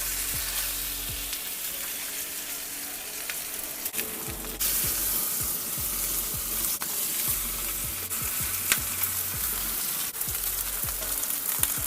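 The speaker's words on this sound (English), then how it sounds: "Do some avocado oil for the sear." Sous vide pork ribs searing in avocado oil in a cast iron pan, a loud, steady close-up sizzle with intermittent sharp crackles and a brief scrape of moving the meat.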